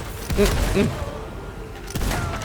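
Gunfire in the looter-shooter video game Tiny Tina's Wonderlands, a few punchy shots and thumping blasts in quick succession with a ringing tail, fairly loud against game background noise.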